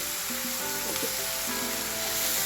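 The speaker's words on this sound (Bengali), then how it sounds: "এইভাবে দিয়ে দেবো কাঁচা লঙ্কা" Green chillies sizzle and crackle in a pot of frying poppy seed paste while a Bengali pomfret fish dish is cooked. The frying is a steady, close hiss with no talking.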